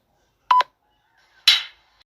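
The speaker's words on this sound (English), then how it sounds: "push the button for flipping sound effects" Two short electronic bursts from a toy, a brief buzzy blip followed about a second later by a longer bright whooshing chirp, close and clear.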